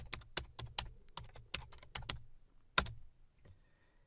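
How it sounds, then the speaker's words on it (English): Typing on a computer keyboard while entering a command in PowerShell, a quick, uneven run of crisp key clicks close to the mic, then a short pause and a final few taps. "And then I'll type the name of the folder."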